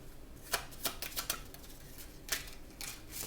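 Romance angel oracle cards being shuffled by hand, a series of quick papery riffles and flicks in uneven bursts, close and fairly soft with short pauses between them and no talking.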